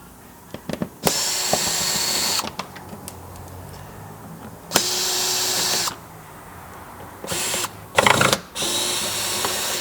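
A power drill spins fender well screws out of a Mitsubishi Outlander during an AC compressor repair, running in several bursts of a few seconds each with short ticks and pauses between them, close and loud.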